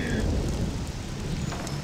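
Steady rain pours down in a gloomy countryside farm scene in the game Mafia: The City of Lost Heaven, a dense continuous hiss with low rumbling beneath, no voices.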